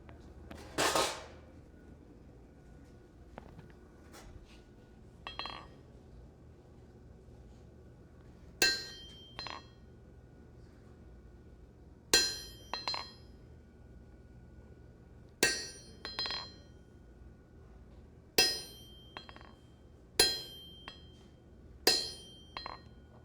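A hammer strikes a chisel to mark metal, giving about a dozen sharp, ringing metallic blows spaced a second or more apart, close and loud over a quiet background.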